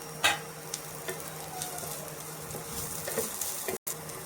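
Ginger, garlic and green chilli frying in a pan produce a steady close sizzle, with occasional spoon taps and stirring scrapes over the constant hiss of oil.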